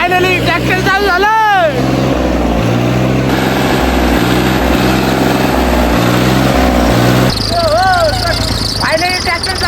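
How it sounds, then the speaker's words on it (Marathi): A tractor's engine runs loud and close after finally starting, a low, steady chugging that shifts in pitch, while people shout and talk over it. "फायनली ट्रॅक्टर चालू झालं."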